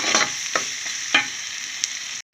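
Garam masala paste fries in a pan of chicken curry, giving a steady high sizzle broken by a few sharp scraping stirs, close and loud, without any talk.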